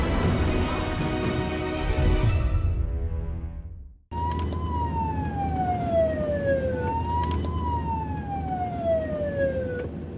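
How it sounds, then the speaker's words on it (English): An ambulance siren on its way back from the front in Ukraine wails in a loud, steady falling tone, repeating over the low drone of the vehicle's engine after an earlier rumble cuts off. "An ambulance on its way back from the front."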